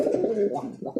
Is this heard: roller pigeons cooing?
yes